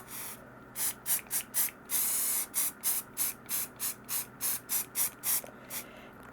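Rapid series of short aerosol spray paint bursts on plastic doll furniture, about a dozen hissing puffs in quick rhythm, one longer blast near the start, close and fairly loud.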